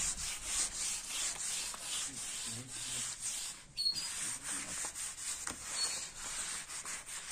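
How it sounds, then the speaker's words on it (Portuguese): A wooden piece is rubbed down with a cloth in steady, repeated scrubbing strokes, close and moderately loud, with brief pauses between passes. "Lixando a peça só com pano"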